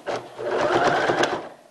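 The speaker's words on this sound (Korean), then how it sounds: "바짓단 박음질을 맞춰서 해주세요." Sewing machine running a short burst of rapid stitching along the hem of a baby's trouser leg, close and fairly quiet, a buzzing mechanical chatter lasting under two seconds.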